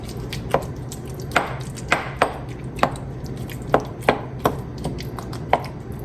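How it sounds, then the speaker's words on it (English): Brunswick stew ingredients are gently mixed and mashed in a pot, with a dozen sharp utensil taps and knocks spaced irregularly over a low, steady background rumble. "I'm going to just quickly kind of mix this together very gently, I would say. Just kind of mashing it down."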